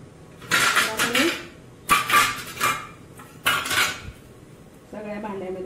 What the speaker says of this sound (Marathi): तर आपण आता हे साबुदाणे टाकलेलं भांडं त्याच्यामध्ये ठेवायचं